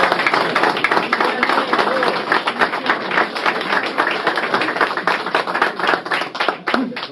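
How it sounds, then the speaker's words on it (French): An audience claps at a fly-fishing competition ceremony in Lozère, steady rapid hand claps filling the whole stretch, fairly close, with voices mixed in beneath. "venir ici pour qu'on les applaudisse, pour les remercier donc d'avoir accordé autant d'argent"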